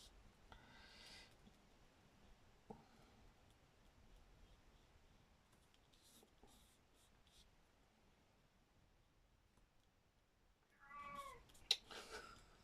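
A cat lets out a couple of drawn-out, plaintive wails, separated by quiet stretches with faint rustling; the last cry is loudest and close by.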